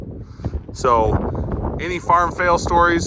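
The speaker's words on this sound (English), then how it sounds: "Yes, it's windy." Low rumbling wind buffets the microphone in gusts on a dairy farm while someone talks over it at close range.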